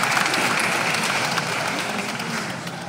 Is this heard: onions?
no